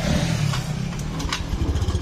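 A motorcycle with a weak battery is kick-started, giving a brief low mechanical chugging and clattering rumble, close and fairly loud, with no talk.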